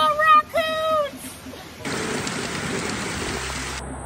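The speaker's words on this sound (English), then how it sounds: "The rain is definitely picking up." Rain falls during a hurricane at Gatorland, a dense hiss of downpour that surges in suddenly and stays steady, following a few whistled or chirping calls at the start.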